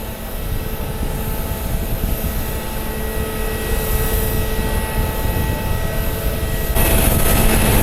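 An airliner rolls on the runway at Columbus airport during a rejected takeoff, a broad steady engine roar with high whining tones heard from a distance, swelling slightly and shifting near the end.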